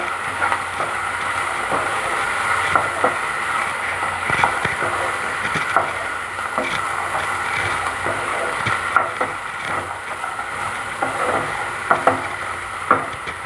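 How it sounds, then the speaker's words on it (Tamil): Black chickpea masala sundal with coriander leaves sautés in a pan, a soft continuous sizzle with scattered light scraping and stirring clicks from a spoon, close and steady throughout. "இப்போ எல்லாம் சேர்த்து ஒரு ரெண்டு நிமிஷத்துக்கு வந்து வதக்கி விட்டுருங்க"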